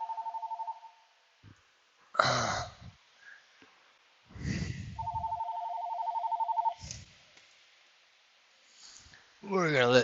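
A telephone rings in two bursts of warbling electronic trills, loud and close, with breathy noises and brief voice sounds between them.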